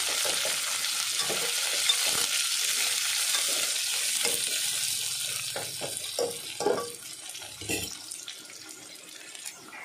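Chopped onions fry in a pan and are stirred, a steady hiss of sizzling with repeated scraping and clinking strokes growing busier toward the end, nearby and alone.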